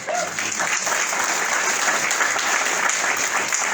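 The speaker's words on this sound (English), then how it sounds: "So let's give Tom a nice hand." An audience claps steadily, a dense wash of applause from a room full of people that holds at an even level.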